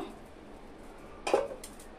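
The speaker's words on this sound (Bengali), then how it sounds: "এবার ঢাকনাটাকে তুলে নিব।" A metal lid clinks once as it is lifted off a pan of marinated pomfret fish, a brief bright clatter against quiet kitchen background.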